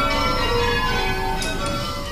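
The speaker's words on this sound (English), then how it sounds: "The workers here at Taylor's often spend their lunch hour ringing their own bells." Workers at a bell factory ring bells, producing loud sustained metallic tones with rich overlapping ringing harmonics that hang and slowly decay, with a couple of fresh strikes partway through.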